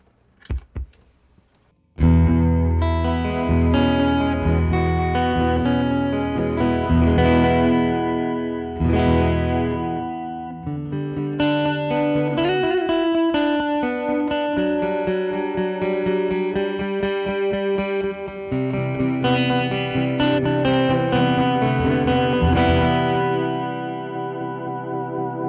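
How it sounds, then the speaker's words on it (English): Acoustic guitar played through a Source Audio Artifakt Lo-Fi pedal in cassette mode, a short pluck and then sustained strummed chords and melodic runs with wobbly, warbling lo-fi character, steady and fairly loud without talk. "I have the Source Audio Artifakt Lo-Fi pedal on their cassette mode"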